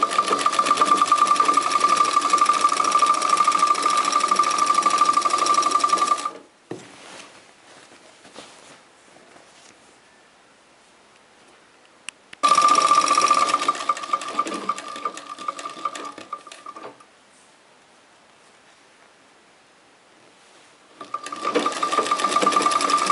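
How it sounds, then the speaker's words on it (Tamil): A sewing machine stitches fabric in a beginner tailoring lesson, running in steady whirring bursts of about six seconds, then pausing, with quiet handling noises in the gaps. "இப்படி ஒரு அரை இன்ச் அளவுக்கு விட்டுட்டு நீங்கள் தைக்க ஆரம்பிச்சுருங்க"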